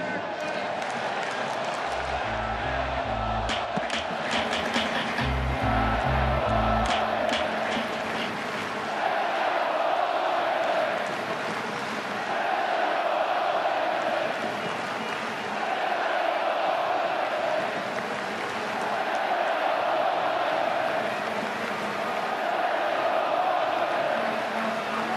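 A large stadium crowd at an Oakland Athletics baseball game roars and chants in unison, with a few loud low thumps early on, then sustained rhythmic cheering swelling and fading in waves.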